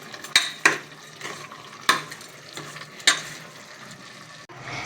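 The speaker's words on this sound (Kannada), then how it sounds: "ಇವಾಗ ಉಪ್ಪು ಹಾಕೊಂಡಿದ್ದೆಲ್ಲ ಇವಾಗ ಚೆನ್ನಾಗಿ ಮಿಕ್ಸ್ ಮಾಡ್ಕೊಳ್ಳೋಣ" Chicken biryani mixture with rock salt being stirred in a pot, with a spoon scraping and clanking against the metal in several sharp strokes over a soft frying sizzle, close and clear with no talk.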